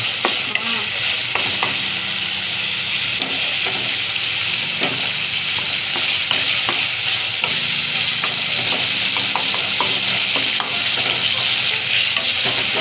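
Aloo baingan sabji with tomato fries in oil in a pan, a continuous close sizzle broken by repeated scraping and clinking stirring strokes throughout.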